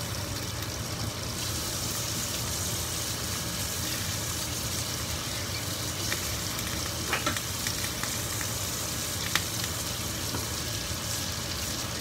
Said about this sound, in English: As you can hear, that butter is actually starting to melt down.